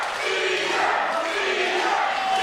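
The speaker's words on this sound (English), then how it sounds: "The crowd is starting to rally behind Caesar's impressive performance." A crowd in the wrestling video game Ronin Rumble roars in a continuous swelling cheer of many voices, even and moderately loud, without distinct claps or individual shouts.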